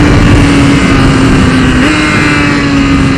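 A 2015 BMW S 1000 RR sport bike runs at high revs mid-corner, its engine a loud, steady droning roar that dips briefly as it downshifts, with wind rushing past.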